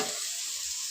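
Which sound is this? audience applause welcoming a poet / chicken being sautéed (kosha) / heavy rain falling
chicken being sautéed (kosha)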